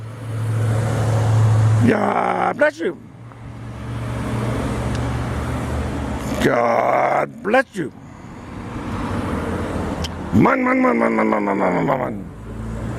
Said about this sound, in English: This is the car coming from Emory.